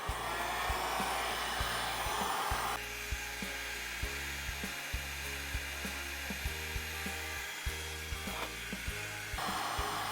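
A heat blower runs steadily and loudly on a camera during repair, warming thread-locking compound around a screw. Its airflow drones continuously with a slight shift in tone partway through and faint small ticks underneath.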